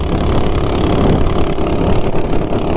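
A 420cc minibike engine runs steadily and loud, its rough mid-pitched drone holding constant throughout with no talk over it.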